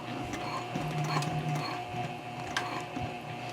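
A sewing machine back stitching over earlier stitching on a handbag handle, a steady close mechanical whir running throughout with faint tapping bursts.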